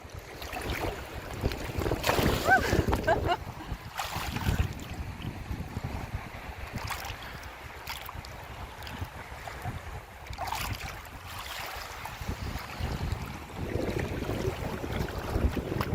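Gentle sea waves wash in along the Dutch coast at sunset, a soft, continuous surf rush mixed with light wind noise, fairly quiet with no talk.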